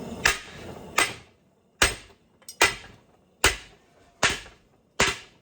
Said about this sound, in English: we got the bigger hammer out. I'm gonna beat on this little bits a little more.